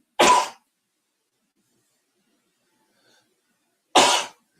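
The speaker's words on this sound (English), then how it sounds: "I'm fixing to sneeze, so hold on, everybody." Two sharp, explosive bursts, a sneeze near the start and another about four seconds later, close and loud with near silence between them.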